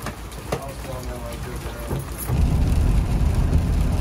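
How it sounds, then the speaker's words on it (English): Rain pours steadily at night outside a music venue during the load-out after a live show, starting softer and then swelling into a loud, dense hiss, with voices talking early on. "Now we gotta go unload in the rain."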